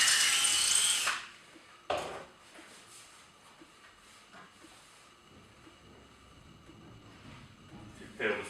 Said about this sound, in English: just drill through the cupboard door at the back into the acrylic on a slow speed